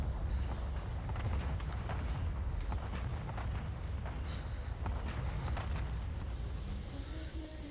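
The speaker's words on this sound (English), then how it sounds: "I hear all this shooting." Gunfire in the Call of Duty video game, heard as a dense, steady rumble of distant shooting with scattered faint shots and booms. The din stays continuous throughout with no clear close-up shots.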